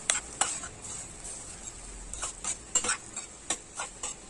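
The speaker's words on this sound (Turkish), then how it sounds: "Bulgurla bir dakika kavuruyorum." Bulgur and zucchini sautéed in a pot for pilaf, faint sizzling beneath intermittent scrapes and taps of a spoon stirring, quiet and close.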